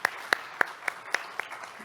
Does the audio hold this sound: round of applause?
yes